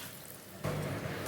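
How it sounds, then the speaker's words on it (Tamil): A glass of water poured into a hot pan of sautéed vegetables and spices, a sudden rushing splash-hiss starting midway after a quiet start and continuing to the end. "1 கிளாஸ் தண்ணியை சேர்த்துக்கோங்க"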